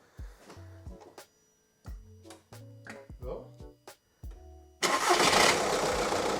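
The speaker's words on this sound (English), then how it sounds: "It did start. Yeah, good start." A car engine cranks with several short bursts of rhythmic turning, pausing between attempts during a 12V battery cranking test, then fires and settles into a loud steady run.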